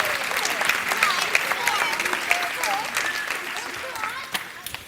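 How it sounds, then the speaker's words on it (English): Church audience applause for three performers playing trees, a steady patter of clapping with scattered loud claps, mixed with cheerful voices and whoops from the crowd throughout. "Round of applause for our three trees, ladies and gentlemen"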